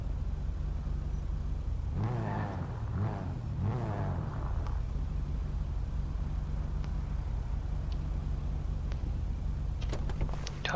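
Motorcycle engine in GTA V, a low steady idle rumble throughout with a few rising rev swells near the start, fairly quiet and with no talking.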